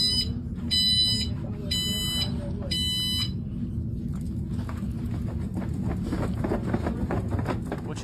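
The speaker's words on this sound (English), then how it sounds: "It beeps." Four sharp, high electronic beeps sound in a regular pattern, then give way to footsteps and low background noise.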